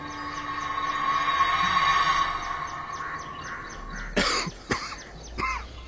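A few throaty coughs outside a door in a Bengali village horror audio drama, coming in short bursts near the end over a steady droning, train-like background hum.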